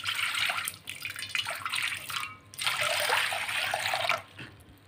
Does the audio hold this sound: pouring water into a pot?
yes